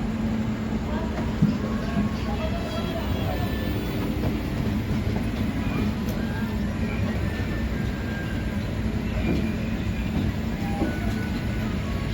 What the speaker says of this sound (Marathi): कुर्डवाडी रेल्वे स्टेशनवरून आपली ट्रेन निघालेली आहे